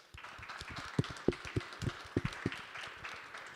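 Scattered hand claps ring out at a men's health panel, a dozen or so quiet, uneven claps over a few seconds rather than full applause.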